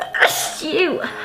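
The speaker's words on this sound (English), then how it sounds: "I'm gonna sneeze." A single sharp sneeze from a young woman, quickly followed by a brief spoken word.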